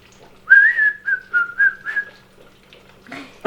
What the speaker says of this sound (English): Whistle while we wait.